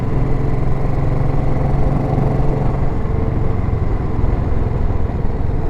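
A 1931 Ariel motorcycle thrums steadily while being ridden, its engine a loud, close, continuous low rumble with a constant beat and no speech over it.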